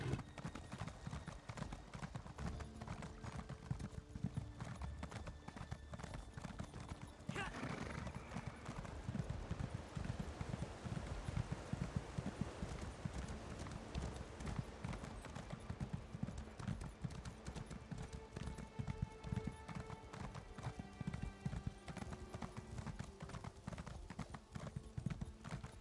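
Steady horse hooves clip-clop through the Elder Scrolls Online game world, a continuous rhythmic trot heard close and fairly loud over a dense game soundscape, with a brief whinny-like sound and occasional talk.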